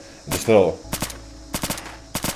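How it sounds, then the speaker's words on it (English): A suppressed VSV rifle in Fallout 4 fires short bursts, a longer rattling burst and then several quick clusters of muffled, snappy shots with brief gaps between them. "Firing in short bursts would be fine, right?"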